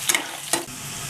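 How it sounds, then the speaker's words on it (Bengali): Chopped onion and green chillies fry in oil, a brief close sizzle broken by a couple of sharp utensil clinks as they are stirred. "এটা ভাজা ভাজা করে নিচ্ছি পেঁয়াজটা"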